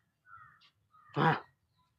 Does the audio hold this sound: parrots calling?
yes